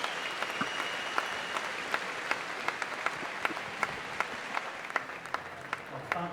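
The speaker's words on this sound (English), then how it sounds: "A big cheer for our British champion, Chloe Tutton." Crowd at the British Swimming Championships 2016 finals applauding a British swimming champion, with dense, steady clapping and scattered sharper claps running throughout at a lively, fairly close level.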